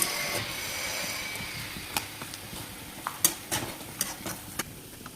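Meat being worked by hand with spices for kala bhuna, a soft, close, continuous squishing and stirring with a few sharper wet slaps toward the end, no talk.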